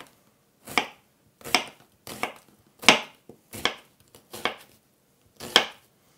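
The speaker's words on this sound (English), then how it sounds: "Normally I don't cut the onion this way, but I wanted to just see what happens." Knife chopping an onion on a cutting board with a finger guard, seven crisp separate cuts at an uneven, unhurried rhythm, close and clear with quiet gaps between.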